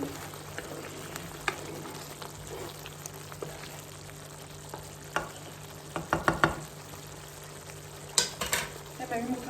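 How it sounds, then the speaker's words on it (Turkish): Tomatoes cook down in a pan on the stove, a steady close sizzle with a few sharp scraping stirs near the end and no voices. "Şöyle domateslerimiz kendini çekmeye başladı"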